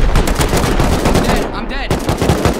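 Rapid automatic gunfire during a base raid in a video game, loud, dense bursts of shots running nearly continuously with a short dip midway.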